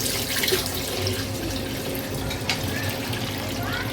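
A kitchen faucet streams continuously over boiled eggs in a sink ahead of peeling, a steady near splashing with small knocks and faint background voices.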